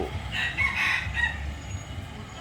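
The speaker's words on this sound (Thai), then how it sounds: "ไก่แจ้กับลูกน้อย ซึ่งไก่ตัวนี้ชื่อ เจ้าสอนเพชรนะครับไก่ตัวผู้" A bantam rooster, a cockerel raising fourteen chicks, crows once, a short strained call at moderate distance over a low rumbling background.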